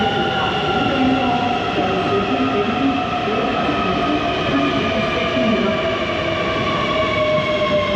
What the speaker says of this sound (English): I'm assuming this is our train